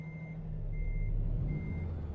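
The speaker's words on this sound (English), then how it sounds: "Let's just back it up a little bit there, Terry" Reversing beeps from a truck in American Truck Simulator's snowy winter event, three evenly spaced steady tones over a loud, constant low engine rumble, with no talking.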